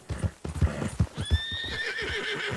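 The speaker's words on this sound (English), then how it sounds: "Horse scared." A horse clip-clops in quick hoofbeats and then lets out a long whinny in the video game Red Dead Redemption 2, close and clear with little else around it.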